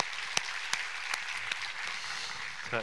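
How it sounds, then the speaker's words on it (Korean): Church congregation applauding in praise after a sermon on Revelation. The clapping is soft, steady and diffuse and fills the hall, with a few sharper claps standing out now and then. "우리 하나님께 감사와 영광의 박수를 드리겠습니다."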